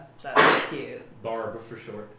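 A single sharp sneeze bursts out near the start, loud and close, then conversation carries on among several people at a table.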